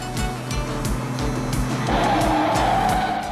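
A cartoon race car on ice brakes hard with failing brakes: a rhythmic thumping engine pulse, then tires squeal in a sustained, loud skid through the second half.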